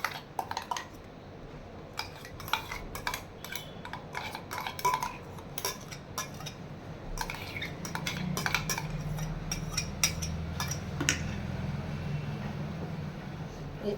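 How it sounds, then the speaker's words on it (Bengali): Condensed milk and sour yogurt whisked together in a bowl for a mango steamed yogurt dessert, with a run of close, sharp clinks and scrapes of the whisk against the bowl and a softer steady churning toward the end. "এবার দেখো, খুব সুন্দর করে কনডেন্স মিল্কটা, টক দইটা ফেটিয়ে নিলাম।"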